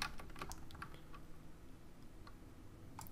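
Keys tapped on a computer keyboard while writing C++ code with SDL, a quiet scatter of irregular clicks at close range over faint background hiss, with no talking.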